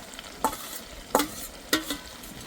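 Chicken curry with fried young jackfruit stir-fried in a pan, giving three distinct scraping stirs at a steady pace over a soft, constant sizzle, close and fairly quiet, no voices.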